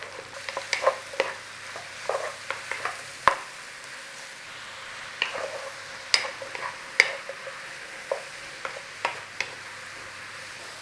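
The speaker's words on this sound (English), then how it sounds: "Mushrooms. Start to saute them off." Mushrooms sautéing in a pan for creamy beef meatballs, a soft low sizzle under scattered clicks and scrapes of a utensil stirring, close and fairly quiet with no talking.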